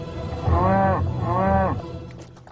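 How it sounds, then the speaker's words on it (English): Cattle low twice in a row, two long, drawn-out moos with a brief gap between them, close and loud, followed by faint higher calls from other livestock fading in the background. "Could these cattle be a target for terrorists?"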